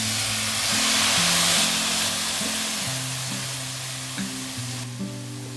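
Steady loud sizzle of a bok choy and mushroom stir-fry with soy sauce in a hot pan, hissing continuously while a low melodic background tune plays.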